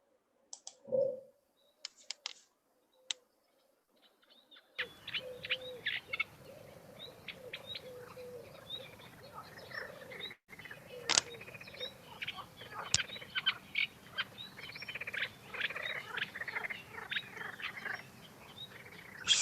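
A reed warbler delivers a faint, chattering, rhythmic song of clicks and short scratchy notes over a constant background chorus of frogs, with a few isolated calls before the song settles into a continuous stream.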